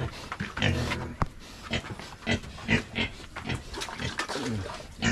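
Pigs on a farm oink and grunt almost without pause, several animals close by with overlapping snorts and squeals.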